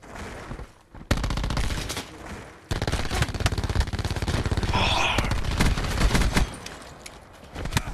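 Gunfire during a free-for-all video game match, loud rapid bursts of shots that stop briefly and then resume, with game sounds layered in.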